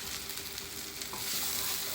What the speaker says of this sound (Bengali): আলু দিলাইছি আর কাঁচামরিচ 3-4টা দিলাইছি